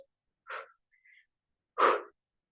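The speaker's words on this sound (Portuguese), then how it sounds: "Uma respiração um pouco mais forte agora." Strong, forceful breaths during a 20-minute functional workout with dumbbells and a chair: a sharp exhale, a faint short breath, then a louder, heavier gust of breathing, close and alone with no talk.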